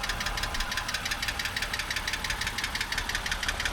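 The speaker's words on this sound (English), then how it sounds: "Sounds normal, lifter tick. I can hear it already." A BMW E90 328xi engine idles steadily, with a fast, regular lifter tick clicking over the low rumble throughout, close and fairly loud with no talking.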